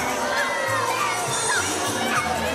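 Crowd in a wrestling video game reacting to a dance-off, a dense continuous roar of shouting and jeering voices at steady high volume.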